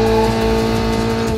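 A car drifts in the driving simulator BeamNG.drive, its engine droning loud and steady under a continuous squeal of sliding tires.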